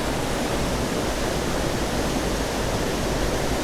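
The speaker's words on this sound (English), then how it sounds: "That is a beautiful waterfall," Waterfall at Craflwyn, Beddgelert, North Wales, heard as a constant dense rushing roar of falling water, steady and fairly close, with no talking.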